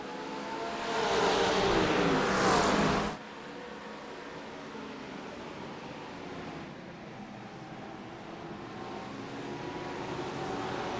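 GT3 race cars at Twin Ring Motegi in a racing video game roar past in a loud, brief burst of engine noise, then settle into a quieter, steady engine drone.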